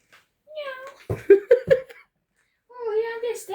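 A person's voice imitates a cat, saying meow a few times in a short, pitched, cat-like call, close and clear, with giggling and chatter around it during a card game at home.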